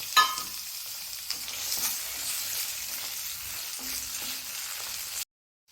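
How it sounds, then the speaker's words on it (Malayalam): Tomatoes sautéing in coconut oil in a pan for a tomato chutney, a steady close sizzle with occasional stirring scrapes, cutting off abruptly near the end. "ഇനി അതിലേക്ക് നമുക്ക് ഈ തക്കാളി ഇട്ടിട്ട് ഒന്ന് വഴറ്റിയെടുക്കാം"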